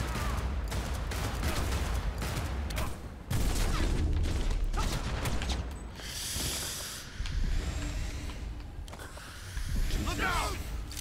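Gunfire in the video game Cyberpunk 2077, repeated sharp shots and bursts through a busy, noisy firefight with people talking over it.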